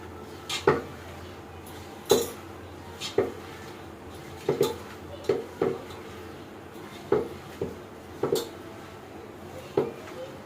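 A spoon scrapes and knocks against a pan while chicken curry is stirred, about ten separate clanks spaced roughly a second apart over a low background, with no voices.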